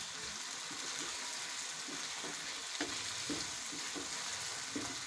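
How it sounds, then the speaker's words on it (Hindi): Boiled eggs frying in spicy masala in a pan, a continuous crackling sizzle with soft rhythmic stirring scrapes, close and fairly quiet, no voices. "कुछ देर हो गई हमें मसाले में अंडों को भी फ्राई करते हुए"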